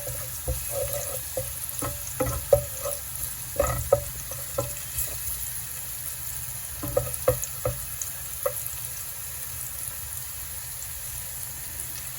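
Onions fry in a pan at home, a steady low sizzle with irregular clusters of stirring scrapes and clinks, close by and without talking.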